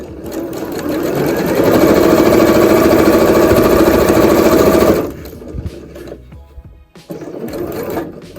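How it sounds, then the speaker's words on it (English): A sewing machine stitches along the edge of a cotton face mask, a loud, fast, steady mechanical whirring for about five seconds, then stops, followed by quieter handling noises and a short burst of stitching near the end. "Now you're just going to go ahead and sew down this edge as well"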